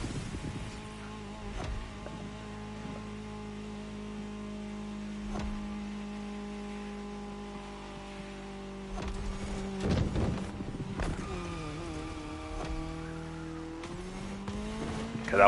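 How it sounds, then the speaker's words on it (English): Ford Fiesta Red Bull Edition rally car in a video game, its engine holding a steady droning note before revving up and down, with tires scrabbling and skidding toward the end. "it's the Ford Fiesta Red Bull Edition"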